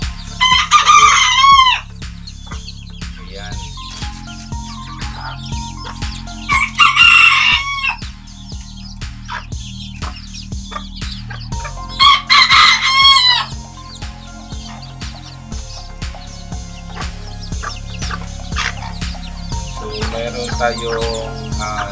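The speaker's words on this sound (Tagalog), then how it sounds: "Ito po yun ang yung mga bagong sisiw." Serama bantam chickens and chicks in a backyard: loud roosters crow three times, and clucking and soft chick peeping continue throughout.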